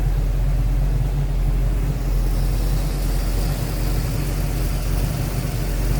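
A 1961 Chevrolet Corvette convertible with a mid-60s 327 V8 and power steering idles smoothly, giving a deep, steady, even rumble held close and loud for the whole stretch with no talk over it.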